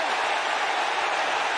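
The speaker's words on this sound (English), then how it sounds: "Crowd wanting intentional grounding," A football stadium crowd roars steadily at a college game after a penalty flag, a dense, constant wall of noise with no breaks for the whole short stretch.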